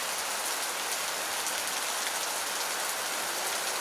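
Steady rain falls in a continuous even hiss with no pauses, filling the space with a dense wash of drops and no voices.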